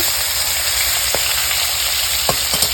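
Meat pieces frying in oil in a pan, a loud close sizzle running evenly throughout with a couple of faint utensil taps, no speech.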